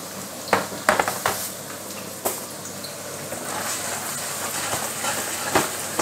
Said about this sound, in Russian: Я бросаю, смотрю, шипит, шипит еще как.